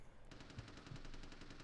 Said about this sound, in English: I don't know why he didn't notice the gunfire